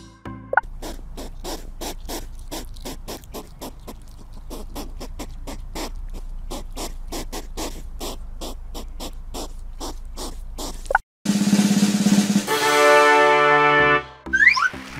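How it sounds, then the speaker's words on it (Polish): A hedgehog snuffles and huffs in a rapid, steady train of short puffing clicks for most of the stretch, close and clear, before a different tonal sound takes over near the end. "Brawo, to jeż."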